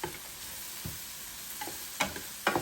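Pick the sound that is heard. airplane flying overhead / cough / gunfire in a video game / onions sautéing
onions sautéing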